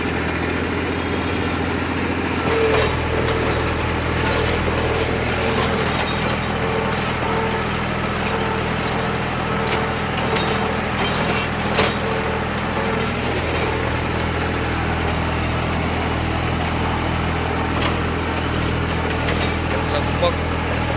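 A Massey Ferguson 246 tractor drives a Shaktiman rotavator with a loud, steady engine drone and churning hum that holds throughout, close by, with talk mixed in.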